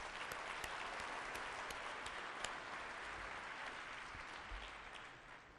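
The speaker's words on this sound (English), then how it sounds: "I want to give them a warm round of applause to say thank you to all of them." Warm, sustained applause from a banquet crowd at an annual dinner celebration for the Asian Pacific American Chamber of Commerce in Michigan, dense and steady, tapering slightly at the end.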